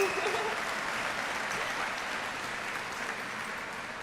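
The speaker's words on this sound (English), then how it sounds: "Yes, that deserves applause." A graduation audience breaks into loud applause that starts strong and holds steady, a dense wash of clapping from a large crowd.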